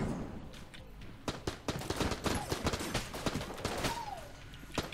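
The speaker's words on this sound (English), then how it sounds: "Hegemony rifle is doing a good job." Hegemony rifle firing in the video game Enter the Gungeon, rapid repeated sharp shots in quick bursts over game effects, fairly close and crisp, with no talking.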